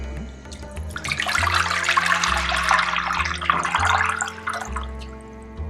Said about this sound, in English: Water has now come to a boil.